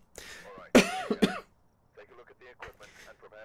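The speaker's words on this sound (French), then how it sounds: "Désolé pour la toux" A person gives a couple of harsh, close coughs and throat-clearing bursts, then goes on talking quietly.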